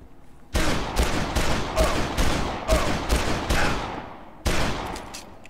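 Rapid bursts of gunfire in the video game Dead Island, set in a prison, a string of loud sharp shots in quick succession with brief gaps, then one more burst after a pause.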